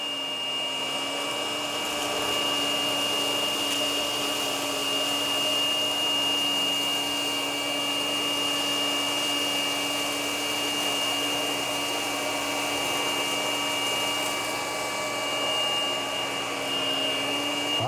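A Hoover ONEPWR Evolve Pet Elite and a Shark Navigator Freestyle upright vacuum run together on high over carpet, giving a steady loud motor whine with a high-pitched tonal hum throughout and no talking.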